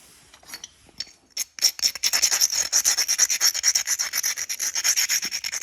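A fine abrader is ground laterally along the edge of a hornstone flint point, making a close, steady series of rapid scraping rubs after a few separate strokes at the start.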